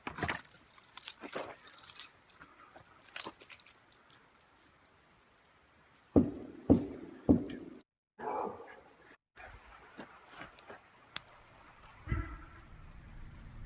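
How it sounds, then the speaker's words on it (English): Keys jangle in several bursts close by, with a dog barking and some rustling and thuds around them. "Get my keys."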